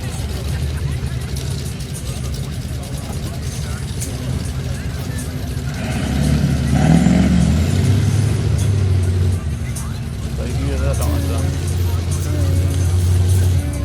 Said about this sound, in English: You about to rev it up and pop the clutch.